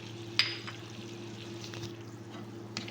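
Softened tomatoes and other ingredients for biryani sizzle in a pan as a faint, steady hiss over a low hum, with one sharp clink near the start.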